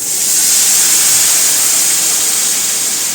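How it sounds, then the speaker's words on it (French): About 10 cl of white wine is poured onto lightly browned onions in a hot pan, producing a loud, steady steam-like hiss and sizzle that holds evenly for several seconds. "je vais venir verser environ 10 centilitres de vin blanc"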